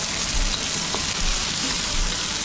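Onions and other ingredients for fish escabeche brown in a hot pan with a loud, dense, continuous sizzle and crackle, close up and unbroken, with no voices.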